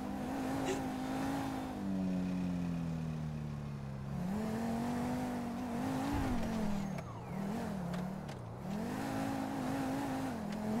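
A car driven in GTA roleplay, its engine drone rising and falling steadily in pitch as it shifts and accelerates, loud and continuous throughout with no talk over it.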